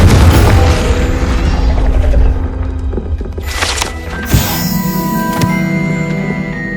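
The Confringo fire spell from the video game Hogwarts Legacy goes off as a heavy booming explosion that rumbles and fades over a couple of seconds, followed by a sharp crack, ringing debris and lingering magical shimmer.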